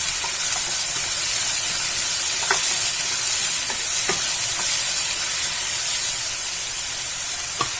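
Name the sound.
tomatoes being added and stirred into sizzling pan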